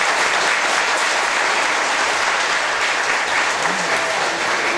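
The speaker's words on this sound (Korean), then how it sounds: "큰 박수 부탁드립니다." Audience at a diocesan bishop's name-day celebration applauding after a cake presentation, a thick, even roar of clapping from many hands that holds steady for several seconds.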